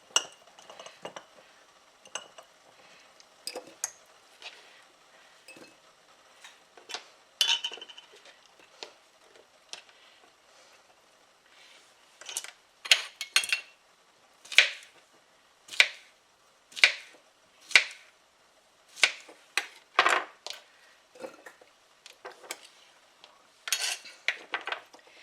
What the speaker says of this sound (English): Let me just put all the slices in this one jar